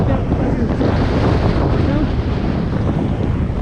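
Wind-driven waves on a broad lake during a storm in Natore, heard as a continuous loud roar of surf and gusts buffeting the microphone, with no voices.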